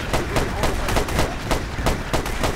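Rifle fire in the video game Battlefield 2142, a rapid series of loud, close shots in quick bursts that keep going with only short gaps throughout.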